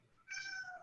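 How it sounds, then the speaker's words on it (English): A hungry cat lets out a single short meow, faint and somewhat distant, rising briefly out of near silence. "sorry, that's my cat's getting hungry."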